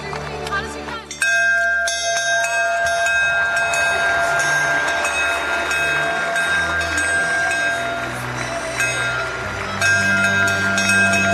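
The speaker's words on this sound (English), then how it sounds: "Young Augie rings the bell." A bell rings out with sustained bright metallic tones at a football match between North Melbourne and Carlton, struck by a young boy, clear and ringing under a commentator's voice and crowd ambience.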